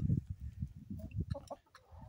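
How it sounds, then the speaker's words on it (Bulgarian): Chickens in a village yard in Dolna Riksa cluck in a low, rapid, rhythmic patter up close, broken by a few short, higher squawks near the end. "Кокошките от село Долна Рикса най-много обичат да се къпят."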